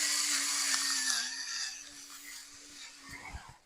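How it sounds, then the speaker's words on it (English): A handheld pepper grinder grinding pepper over salted pork for a pot roast, producing a close, gritty mechanical whirring with a steady tone that fades slightly before some faint handling knocks. "I take my handy dandy pepper grinder"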